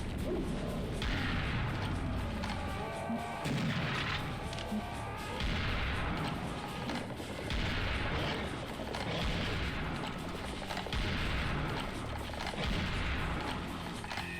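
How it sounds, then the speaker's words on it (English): A double-barreled super shotgun in the Serious Sam Fusion video game fires repeated loud blasts amid other in-game gunfire and explosions, forming a dense, continuous stretch of combat noise. "God, the super shotgun is fun."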